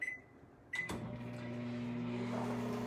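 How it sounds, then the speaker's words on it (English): A microwave oven starts up with a beep and a clunk, then hums steadily and quietly while it melts milk chocolate. "I'm going to stick those in the microwave and watch them very closely"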